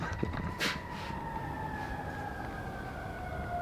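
A wailing truck siren with a slowly sliding pitch, heard at moderate distance over a steady rumbling background, continuous throughout.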